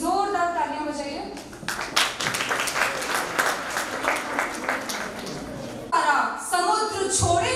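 A school convocation audience claps energetically for several seconds, the dense applause framed by someone speaking into a microphone before and after.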